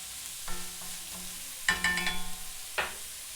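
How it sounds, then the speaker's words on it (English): Mushrooms sautéing in a pan, a soft continuous sizzle broken by brief clattering stirs and a few louder scraping bursts. "Let's go ahead and add the mushrooms. And all I'm doing right now is just making sure that they soften up a little bit"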